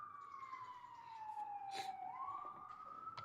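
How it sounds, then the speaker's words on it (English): An emergency vehicle siren wails outside on a New York City street, a faint, distant tone that sweeps slowly down and then back up under low background hum, with no voices. "I heard the sirens"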